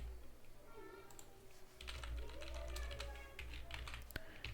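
Keystrokes on a computer keyboard tap out short bursts while form fields are filled in on a PHP signup page, close and fairly quiet over a steady low hum, with a louder cluster in the middle and a sharp click near the end.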